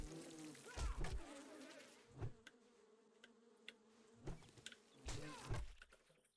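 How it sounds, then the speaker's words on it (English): Bees swarming out of a tree stump in a video game, a buzzing drone that swells and fades in several bursts, close and fairly loud, with occasional soft thuds between. "The bees that come out sometimes are a little annoying,"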